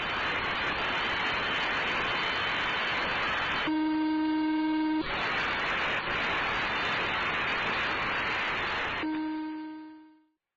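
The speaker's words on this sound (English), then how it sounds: "Transmissions consisted of a single beep every 4 seconds." Shortwave HF utility signal known as the X-ray echo: steady loud hiss with two long, sustained tonal beeps about five seconds apart, each rich in harmonics, before the noise fades out.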